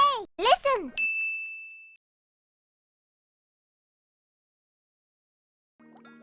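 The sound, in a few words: notification bell ding sound effect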